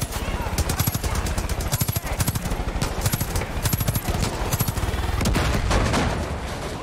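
Rapid automatic gunfire from the video game Far Cry 5 aimed at a helicopter: dense, loud bursts of shots in quick succession with brief gaps, ending in a steadier sustained rumble.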